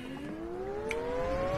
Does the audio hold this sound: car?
yes